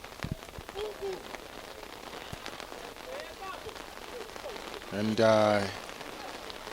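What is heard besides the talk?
heavy rain falling on a rugby pitch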